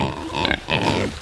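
Pigs on a farm grunt in two short bursts at close range, with rough, nasal oinks and snorts over a steady low background.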